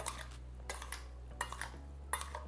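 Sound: stirring fruit salsa in a bowl

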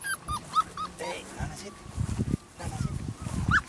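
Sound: dogs whimpering and barking

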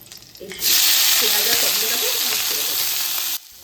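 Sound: ajwain and green chillies sizzling in hot oil

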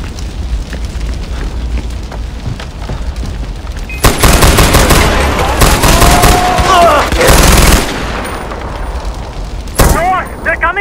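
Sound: gunfire and explosions in the video game Far Cry 4

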